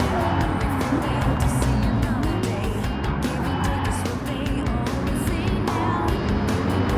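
Infiniti Concept Vision Gran Turismo race car driven in a racing video game, a loud continuous engine roar with tire and wind noise throughout, steady and close.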